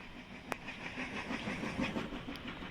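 A train runs along rails with a steady low rumble and rattling wagon noise, heard from on board, with a couple of sharp metallic clicks standing out.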